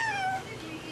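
A young child imitates a cat's meow with short, falling tonal calls near the start, brief and fairly close against a quiet room.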